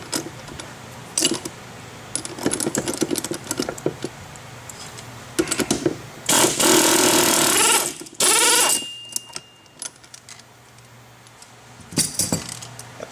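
Metal clutch pulley being pried and pulled off a Sanden SD7/SD5 car AC compressor, producing a series of close, loud metallic clinks and scraping rattles in bursts with brief pauses.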